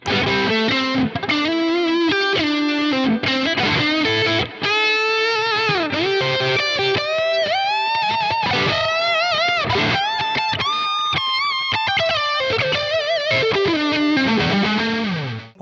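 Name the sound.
Cort G250SE electric guitar, neck pickup, distorted tone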